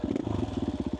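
A dirt bike engine chugs in a rapid pulsing rhythm, close and steady, while riding in second gear through deep desert sand during training for the Finke Desert Race.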